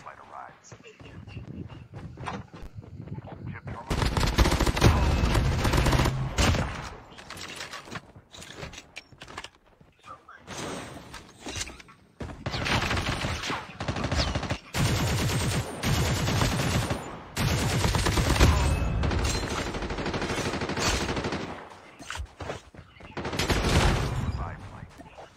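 Video game gunfire crackles in dense rapid bursts and volleys, stopping and restarting several times, with someone talking over parts of it.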